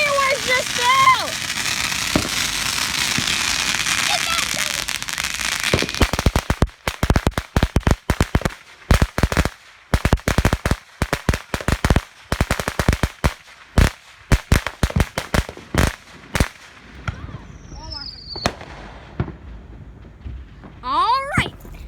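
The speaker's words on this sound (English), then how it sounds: "The fireworks just fell." Fourth of July fireworks and firecrackers go off in rapid strings of sharp, close cracks and pops, some dense and overlapping, with a whistling rocket near the end and voices talking beneath.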